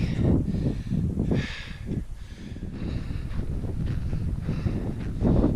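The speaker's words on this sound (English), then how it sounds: "It might be a little cool with the wind" Wind gusts across the microphone on a high mountain pass in Colorado, a loud, uneven rumbling buffet that swells and fades without pause.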